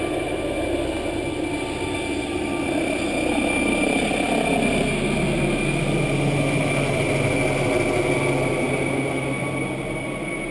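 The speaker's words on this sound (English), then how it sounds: "the helicopter was off again" A helicopter lifts off in the Grand Canyon, its rotor and turbine making a steady, loud, close whine and throb that holds through the whole stretch without pause.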